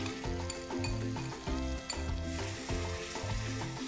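A yogurt and spice mixture sizzles in oil in a pan while being stirred for mutton paya soup, the frying hiss steady and near, punctuated by occasional scrapes, with no voices.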